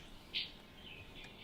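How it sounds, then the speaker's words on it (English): A single short, high-pitched ping call from a bearded tit, brief and moderately clear against a quiet outdoor background. "The pin of the bearded tit."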